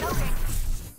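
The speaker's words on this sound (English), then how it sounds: "Reloading." A weapon being reloaded in Farlight 84, a quick mechanical rattle and clack of the magazine and action, loud and close, set against dense game noise.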